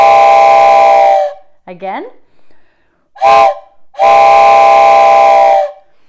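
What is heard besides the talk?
wooden four-hole train whistle being blown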